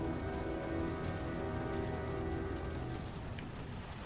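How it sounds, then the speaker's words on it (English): Steady rain falls in the video game Heavy Rain as a constant hiss under a low humming music bed, with a couple of brief brighter splashes near the end. "Gosh, it's still raining."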